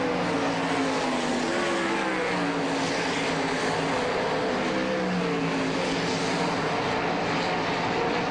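Sprint cars on the final lap of a heat race at an All Star Circuit of Champions event in Hartford, Ohio: a dense, loud, continuous engine roar from several cars, with pitch rising and falling as they circle.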